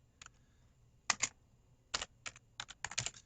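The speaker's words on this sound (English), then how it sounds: "if my strategy is just to begin typing the first and last name" Close-up typing on a computer keyboard: a few quick, crisp clusters of key clicks separated by short pauses in a quiet room.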